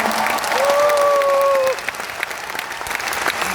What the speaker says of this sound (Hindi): बापू सभागार के इस पवित्र भूमि से दशरथ मांझी के लिए जोरदार तालियां बजनी चाहिए